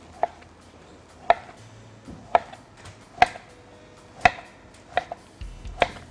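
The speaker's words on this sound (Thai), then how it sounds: "ผมหั่นเลยนะครับ หั่นเฉียงเฉียงอย่างนี้" A knife cuts Chinese sausage diagonally on a cutting board, seven sharp distinct chops spaced about a second apart, close and clear over a quiet kitchen background.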